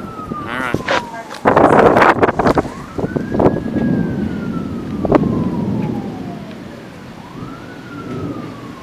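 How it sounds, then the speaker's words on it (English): Emergency vehicle sirens wail with rising and falling sweeps during a lightning storm, moderately near, while people talk and exclaim over them. "Wow, those sirens stopped pretty close."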